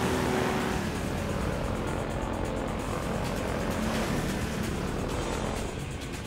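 A helicopter in Half-Life 2 Episode 2 gives a loud, continuous thudding rotor roar and engine drone that fills the whole clip steadily, heard up close.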